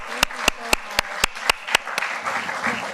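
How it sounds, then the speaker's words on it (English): An audience at a Yom HaShoah commemoration ceremony claps for children in a steady, evenly spaced rhythm of about eight crisp beats. The clapping then fades into a low, diffuse room murmur. "And let's give them another round of applause."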